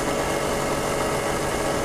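An old vehicle engine runs steadily after oil was put in its cylinders, giving a continuous loud mechanical drone with no voices.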